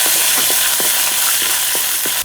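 Mustard and cumin seeds spluttering in hot oil for an Andhra-style tempering, a loud continuous sizzle with sharp popping crackles bursting every half second or so, close up.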